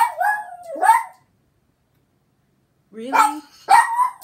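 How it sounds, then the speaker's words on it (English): Dog barking loudly indoors, two sharp bursts close together, a pause of silence, then two more barks, with a person speaking briefly over them. "Her dog is so loud."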